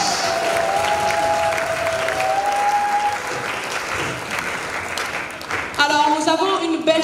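Guests at a 60th birthday party clap and cheer for the family patriarch in a sustained round of applause, with voices and a brief melodic tone mixed in near the end.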